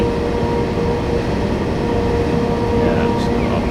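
A very long train rolls steadily along a station platform in Train Sim 2014 on the Three Country Corner route, a constant loud rumble of wheels and motor with a sustained mechanical hum.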